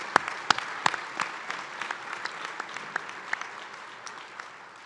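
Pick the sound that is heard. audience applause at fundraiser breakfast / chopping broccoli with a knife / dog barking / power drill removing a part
audience applause at fundraiser breakfast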